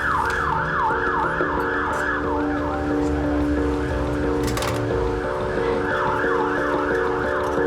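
An ambulance siren wails in a repeating rising-and-falling pattern as it approaches a hospital A&E department, steady and moderately loud throughout, with a faint voice or two underneath.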